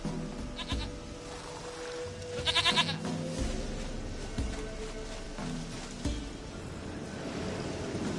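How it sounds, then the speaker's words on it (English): Goat bleating in the video game The Witcher 3, several short nasal bleats rising clearly over a steady ambient bed with faint background game sounds and no talk. "Goat of mine, dearest, sweetest goat."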